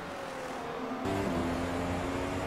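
Formula One car engine on a hot lap at Monza in iRacing, a loud sustained engine drone with a steady pitch that jumps up sharply after a gear change, no talk.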